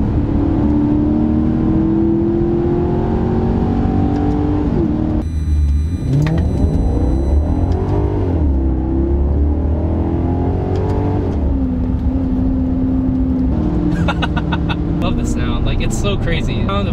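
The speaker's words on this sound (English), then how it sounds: "The sound of this car is probably the key selling point of this thing" Maserati GranTurismo engine revving hard after a manual-mode downshift, a loud, close, sustained roar that swells and drops with the revs, with people talking over it.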